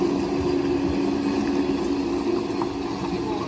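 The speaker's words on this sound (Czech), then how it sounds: "To je neskutečné, neskutečný ten traktor." A tractor engine runs at a muddy off-road meet, a steady, fairly loud mid-pitched drone heard close by.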